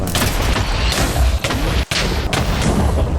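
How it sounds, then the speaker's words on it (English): Creepers blow up in Minecraft: a rapid run of loud, booming blasts with a brief gap near the middle, heavy and close. "I charged up the creepers and blew them up"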